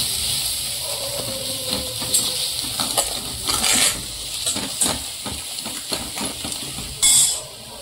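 Homemade black masala sautéing in a pan for fish curry, with a steady close hiss of frying and repeated scrapes and clinks of a spoon stirring against the pan, plus a brief louder sizzle near the end.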